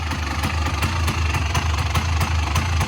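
A 1985 Honda ATC250R three-wheeler's engine runs steadily near the listener, a loud, even idle with a low throbbing drone and regular mechanical pulses.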